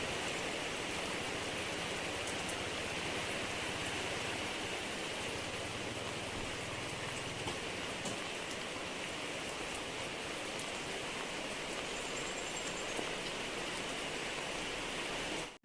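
Steady rain pours down continuously, a dense even hiss of drops on surfaces with no pauses and no voices.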